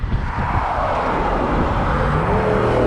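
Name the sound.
truck driving past on gravel road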